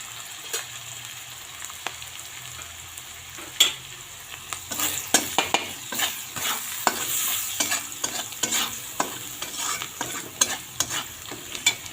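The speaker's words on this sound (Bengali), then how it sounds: "লবণ দিলে পেঁয়াজটা তাড়াতাড়ি ভাজা হয়ে যাবে।" Onions with salt and turmeric powder frying in a pan, a soft continuous sizzle broken by repeated scraping stirs and spatula taps, close by with no voices.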